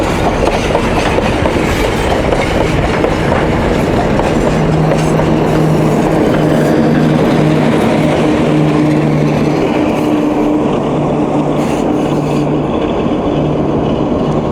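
Industrial railway wagons rolling along the Magnezit plant line in Satka, a loud, continuous rumble with steady wheel clatter and a faint squealing tone, close by and without talk.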